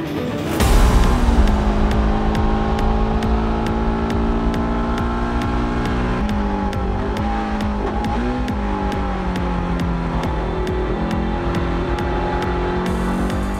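A race car engine screams at high revs, climbing through gears with brief dips at each shift, loud and sustained.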